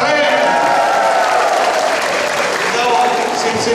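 Loud, dense applause from an audience at a public event where mayors are introduced, a steady wash of clapping with voices mixed in throughout.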